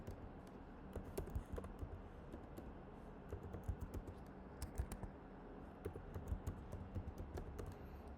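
Keystrokes on a computer keyboard as an email address is typed, a steady run of quiet, irregular clicks with small bursts of faster taps, close by, with no talk.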